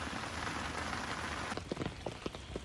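Rain falling steadily, heard near and close under an umbrella outdoors, a soft continuous patter that turns into sharper, separate drops hitting the surface in the second half.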